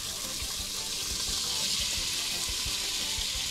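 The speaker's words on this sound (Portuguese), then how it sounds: "o nosso charque, sempre é bom lavar bastante vezes para tirar o sal dele" Salted jerky (charque) is rinsed under running tap water in a sink to wash out the salt, a steady close, loud rush of water splashing over meat, with no talking.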